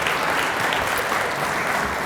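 Dense, steady applause from an audience at a high school hall of fame banquet, loud and continuous throughout, a full room of hands clapping together without pause.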